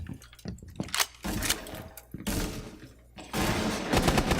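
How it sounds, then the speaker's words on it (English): A gunfire exchange during a Rainbow Six Siege tournament match, with loud, choppy bursts of rapid automatic fire and single shots, broken by brief pauses and building to sustained fire at the end, with no talk. "They're just going to trade some bullets here."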